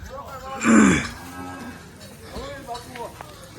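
Cows mooing in a village during Uttarayan, where fodder has been laid out for them: one loud, close moo early on, followed by fainter lowing and grunts from the herd.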